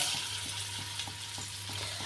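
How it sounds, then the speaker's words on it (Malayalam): Unnakkaya frying in ghee in a hot pan gives a quiet, even sizzle with light, regular crackling pulses, up close and with no talking. "ഇതാ ചൂടായ ചട്ടിക്ക് കുറച്ച് നെയ്യ് വെച്ചിട്ട് ഒന്ന് നമുക്ക് പൊരിച്ചെടുക്കാം"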